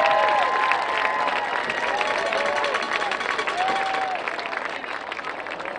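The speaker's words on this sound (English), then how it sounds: "One more nice round of applause for LaVille Royal Regiment!" A crowd at a varsity high school football game applauds the LaVille Royal Regiment band, with sustained clapping and scattered cheers that fade slightly toward the end, while background voices mingle in.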